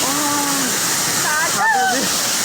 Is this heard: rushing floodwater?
yes